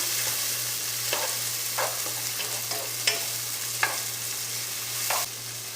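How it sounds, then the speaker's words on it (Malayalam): Tomatoes sautéing in a pan for a chicken sausage and potato curry give a steady loud sizzle, broken by several sharp scraping stirs of a spoon against the pan, with a constant low hum underneath. "ഇനി തക്കാളി നമുക്ക് നന്നായിട്ടൊന്ന് വഴറ്റിയെടുക്കാം."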